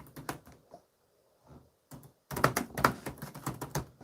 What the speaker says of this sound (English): I'm not the greatest typer.